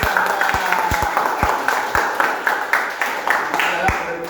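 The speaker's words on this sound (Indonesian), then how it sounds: "Tepuk tangan untuk kelompok dua" A classroom applauds a student group: scattered, uneven hand claps, some sharp and close, over a murmur of voices and talk.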